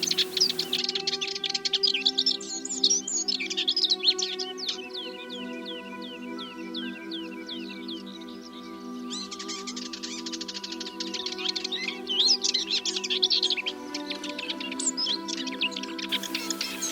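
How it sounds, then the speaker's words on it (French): Birds chirp and trill outdoors in spring among flowering broom shrubs, many overlapping calls at moderate distance forming a continuous, fairly quiet chorus with no talking. "les oiseaux sont bien là"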